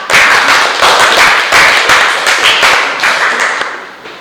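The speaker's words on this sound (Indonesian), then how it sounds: "kita beri tepuk tangan dulu untuk kelas 2A" Loud, dense applause from a school class, steady clapping for about four seconds before tapering off, with no talking over it.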